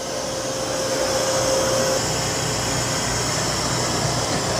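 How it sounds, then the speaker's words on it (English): Narwal Freo Pro robot vacuum and mop running at super powerful suction, a loud, steady close-up whirring roar of broadband airflow noise that holds constant throughout with no talking. "I can bump that up to super powerful suction."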